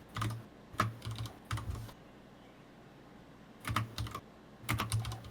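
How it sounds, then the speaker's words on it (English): Bursts of computer keyboard typing as notes are entered, quick clusters of keystrokes separated by pauses, close and clear with no talking. "I am typing out my notes."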